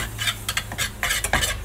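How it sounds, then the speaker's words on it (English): Bacon sizzles and crackles in a frying pan, with bursts of spitting fat and the scrape of a utensil stirring, no talking. "we're still sizzling away with that bacon"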